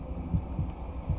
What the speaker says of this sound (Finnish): Osvaldin syke kasvaa.